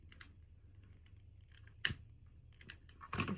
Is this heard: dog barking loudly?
no